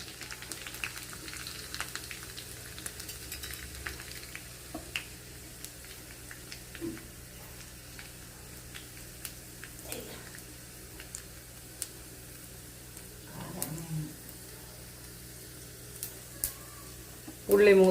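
Shallots sizzle in hot oil in a pan with a low, continuous fry, broken by scattered clicks and taps. Near the end a louder burst comes as curry leaves and dried chillies go in.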